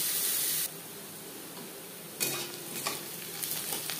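Onion and garlic frying in a pan, with a loud opening burst of sizzle that settles into a steady hiss, then brighter crackling and stirring scrapes in the second half, no voices.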